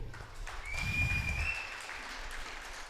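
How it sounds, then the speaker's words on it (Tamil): Audience applauding after a spiritual speech at a temple gathering, a soft, fairly distant patter of many hands that rises and then holds steady, with a faint tonal whistle above it. "எல்லோரும் ஒரு நிமிடம் எழுந்தின்று நம்மளுடைய கைத்தட்டலை செலுத்துவோம்."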